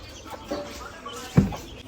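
Chickens and small chicks cluck and cheep softly just after being let out of an enclosure on a farm, with one sharper cluck standing out briefly among low murmuring background noise.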